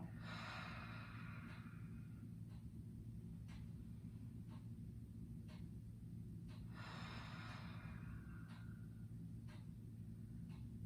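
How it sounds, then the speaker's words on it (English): Deep breaths during a beginners yoga session, two long breathy inhale-exhale cycles that rise and fade several seconds apart, close and fairly soft over a steady low hum, with no talking. "Few more rounds. Inhaling and exhaling."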